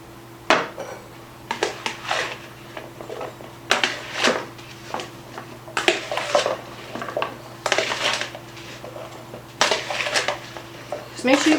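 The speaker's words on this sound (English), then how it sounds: "I'm just going to throw this in the bowl, and we're going to coat it in that oil" Sweet potato wedges tumbled in oil inside a bowl give repeated clattering knocks and scrapes, close and moderately loud in irregular bursts, with a steady low hum underneath.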